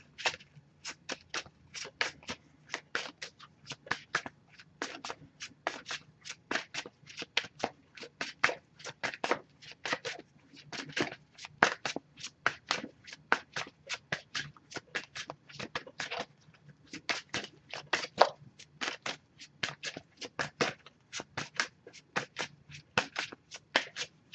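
Messages of Love Oracle cards riffled in a long, steady run of crisp, dense slaps and flutters, close and clear with no talking over them.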